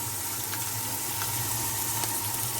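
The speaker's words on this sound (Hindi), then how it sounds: "प्याज और टमाटर को फ्राई करते हुए हमें 3 मिनट हो चुके हैं" Onions and tomatoes fry in a pan, a steady broadband sizzle with a faint low hum underneath and a few soft clicks of utensils, moderately loud and continuous with no voices.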